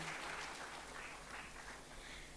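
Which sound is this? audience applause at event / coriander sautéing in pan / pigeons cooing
audience applause at event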